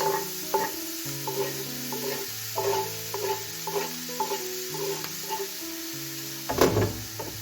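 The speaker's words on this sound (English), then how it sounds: "Saute this until the raw smell disappears" Onions are sautéed in a pan with ginger, garlic and green chili paste. A soft sizzle runs underneath repeated scraping stir strokes of a spatula, ending with a louder knock near the end.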